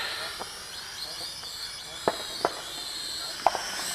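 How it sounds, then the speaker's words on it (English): Fireworks going off nearby during an outdoor quadcopter flight: a few sharp, distant-sounding cracks spaced over several seconds above a steady hissing background. "someone's setting off fireworks nearby by the sound of it"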